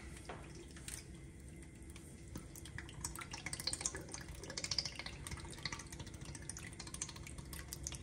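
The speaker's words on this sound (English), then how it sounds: "we need to add an entire can of tomato juice" Tomato juice pours from a can into a pan, a faint, soft trickle and splatter of liquid that builds slightly toward the middle and continues to the end, with no voices.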